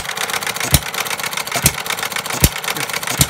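A 1/3 scale gas-powered Breisch Hired Man hit and miss engine running up close, steady rumble punctuated by sharp firing bangs about once every 0.8 seconds.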